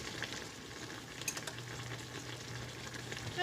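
A large pot of jambalaya with shrimp simmers in a messy home kitchen, giving off a faint, steady bubbling sizzle with a few light clinks. The sound stays soft and continuous.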